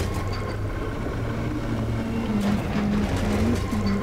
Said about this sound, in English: The helicopter's still making weird noises.